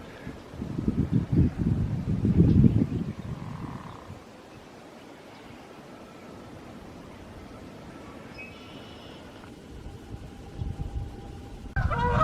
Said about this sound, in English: I hear the geese making a lot of noise.